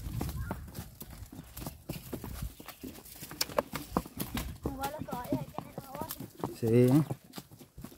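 A horse carries riders toward a river to haul water, its hooves clip-clopping in a steady walking rhythm beneath near, continuous conversation, with a short whinny-like sound near the end.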